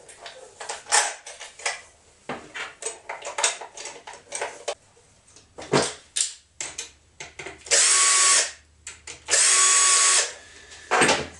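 Tools clatter and tick with handling knocks, then two sustained bursts of a power tool driving a bolt while assembling a new string trimmer, close and fairly loud.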